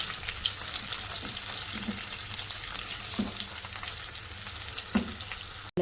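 Garlic, dried chillies and cumin sizzle steadily in hot oil in a pan, a soft continuous crackle with occasional stirring scrapes and small pops, close by and without voices.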